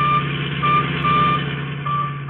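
A beeping radio tracking signal from a radio hidden in a stolen Royal Coupe, a steady repeating high tone pulsing over a loud low vehicle engine rumble inside a moving car.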